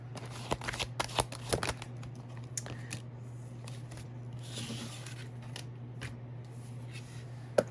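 Tarot cards are shuffled and drawn one at a time. Soft papery flicks and slides run as irregular bursts, close by and fairly quiet, over a steady low hum, with no one talking.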